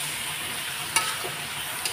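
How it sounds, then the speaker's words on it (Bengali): Spice masala sautés in a pan for a home-style fish curry, a continuous close sizzle with one or two faint scrapes of the spoon. "সব একবারে দিয়ে মশলা আমি এখন কষিয়ে নেব"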